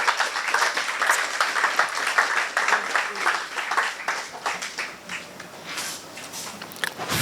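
Audience applause after a professional-journey talk by Kwaku Sakyi-Addo, a loud burst of many hands clapping that thins and fades toward the end, with a little crowd noise mixed in.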